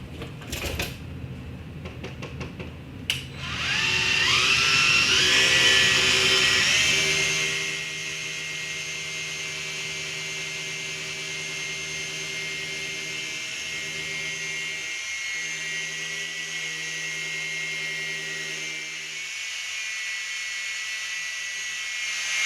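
A power polisher buffs the paint of a Harley Davidson motorcycle, whirring up sharply after a few clicks and then settling into a steady, close electric hum with a slight pitch wobble.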